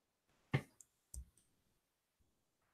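A computer keyboard gives a few sparse, isolated clicks, one sharp tap, a couple of lighter ones and a final faint tick, each separated by near silence.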